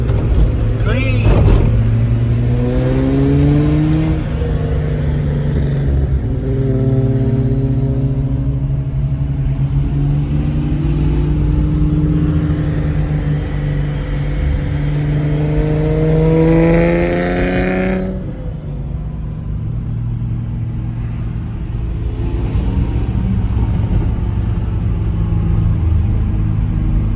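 A Nissan 280ZX drives and accelerates, its engine rising through repeated revving sweeps and gear changes, loud and close from inside the car, with a quieter steady cruise toward the end and some talk over it.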